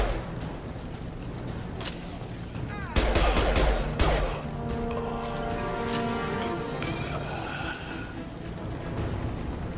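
Gunfire erupts in a Mass Effect 2 street battle with Blue Suns mercenaries and Vorcha, sharp shots and a heavy blast standing out against a busy background of sound effects and scattered speech.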